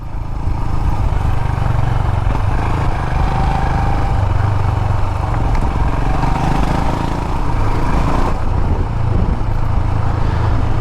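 A 2020 Royal Enfield Himalayan motorcycle is ridden along a bumpy, loose, grassy lane, its engine a steady, close drone blended with wind rush throughout, with no talking.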